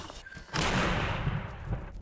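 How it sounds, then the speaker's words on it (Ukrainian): A single sharp gunshot cracks out after a quiet moment, followed by a loud rumbling boom that rolls on and fades over about a second. "Постріл!"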